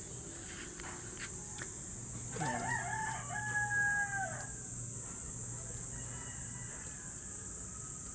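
A bird gives a short rising call in the middle of a quiet outdoor scene, with a constant high insect drone and faint cricket chirps around it.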